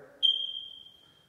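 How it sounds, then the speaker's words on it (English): A smoke alarm in a newly built house gives one high, thin chirp that rings on and slowly fades, faint and alone after a moment of background murmur. "Sorry, the squeaky smoke alarms."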